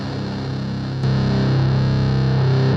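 Sondery Metal distortion pedal switched into turbo mode, a thick, saturated, heavily distorted guitar tone that jumps louder about a second in and then sustains steadily to the end.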